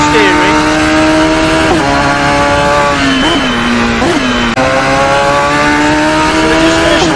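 Radical SR3 XXR race car lapping a track in Assetto Corsa, its engine note steady and loud throughout with pitch dips at gear changes and corners, running continuously under a commentator's voice.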